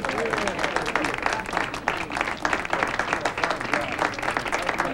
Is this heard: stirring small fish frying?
no